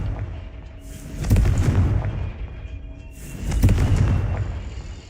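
Two deep booming blasts from the Confringo spell in the Hogwarts Legacy game, each a heavy low rumbling burst about two seconds apart, loud and close with a rolling decay.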